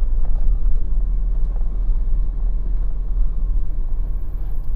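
A vehicle rolling through a walnut orchard, its steady low engine rumble and road noise continuing close and unbroken throughout.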